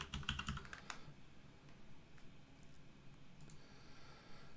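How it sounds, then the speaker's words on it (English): A name typed on a computer keyboard: a quick burst of close, crisp key clicks at the start, then a quieter stretch with a few isolated taps and a short second burst near the end. "type in your name."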